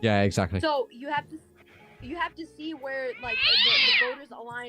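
A pet cat meows loudly and close by in a long, drawn-out wail near the end, with people talking in an online stream conversation before and around it.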